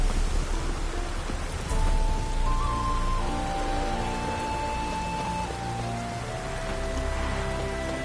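Rain falling in a fantasy role-playing game, a steady hiss of drops on surfaces that continues throughout, with faint tonal music underneath and no talk.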